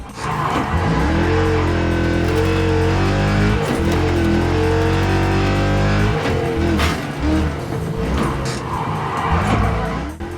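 A race car engine in the video game Wreckfest 2, heard from first person, roars continuously, its pitch rising and falling through gear shifts, with tire squeals and skids mixed in.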